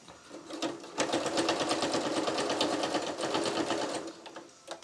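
Close, loud sewing machine running continuously for several seconds while a clown bodysuit is stitched, with a fast regular needle chatter that eases off near the end.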